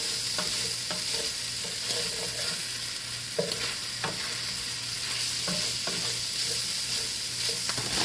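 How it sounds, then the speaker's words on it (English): An egg fries in a pan alongside pork fried rice ingredients, making a continuous close sizzle broken by frequent light spatula scrapes and taps, steady throughout with no one talking. "Take the fried egg, flip it over, let it fry on that side."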